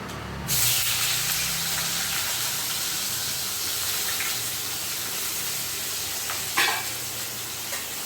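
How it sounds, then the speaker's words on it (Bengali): Cut taro pieces dropped into hot oil tempered with nigella seeds, breaking into a loud, dense hiss that holds steady throughout, with one brief clatter of a utensil late on; no speech. "আর এই যে কচু কেটে রেখেছিলাম, যে সেই কচুগুলো আমি তেলের মধ্যে দিয়ে দিচ্ছি।"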